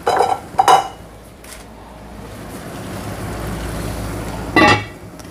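Mutton pulav is stirred in a pot, giving a few metallic scrapes and clanks, then a stretch of soft rustling, and a final clunk as the lid is set down.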